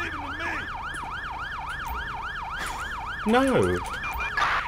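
An ambulance siren wails in the video game GTA V with the LSPDFR police mod, a loud, steady, rapidly cycling electronic yelp that stays close. A second rising-falling tone briefly joins near the end, and a voice speaks one short word.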